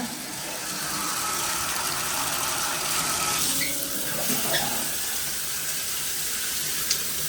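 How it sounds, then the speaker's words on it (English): Steady hiss of a low-pressure hotel shower spraying water, broadband and continuous for the whole stretch, with a few faint clinks near the end. "And we will test that shower. Turn it on."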